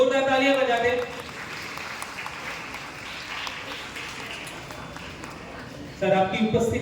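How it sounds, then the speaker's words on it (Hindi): Audience applause at a Varanasi gathering: a crowd claps steadily for about five seconds, with a voice speaking just before and just after. "एक बार जोरदार तालियां बजा दे।"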